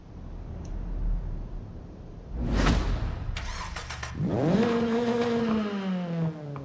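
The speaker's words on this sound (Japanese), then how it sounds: "それではエンジンかけてみたいと思います。" A Nissan Silvia S15 Spec R turbo engine in the Forza Horizon 5 racing game cranks with a short starter burst, then catches and flares into a loud rev before settling into a steady idle.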